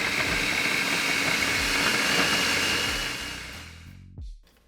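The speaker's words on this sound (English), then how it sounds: "Take the food processor, put this lid on, turn it on. Once I put this on, it's gonna grind it up" A food processor grinds chicken tortilla soup ingredients, a loud steady motor whir with rhythmic chopping pulses that winds down and stops near the end.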